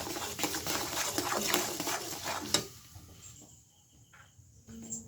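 Ghee being stirred into a batter of puffed rice, salt and ghee for langcha, a scraping, clattering mix of spoon against bowl that runs busily for a few seconds, then drops to quiet with faint ticks.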